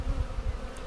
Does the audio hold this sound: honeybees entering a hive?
yes